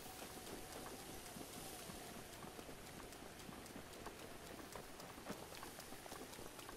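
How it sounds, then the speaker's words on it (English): Constant rainfall in The Legend of Zelda: Breath of the Wild, a dense hiss and scattered patter of drops, steady and fairly soft throughout, with faint thudding steps mixed in. "Man, I wish it wasn't raining."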